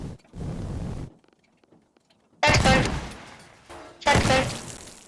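Shotgun blasts in the voxel destruction game Teardown: three loud, close bursts with short decaying tails, separated by near silence.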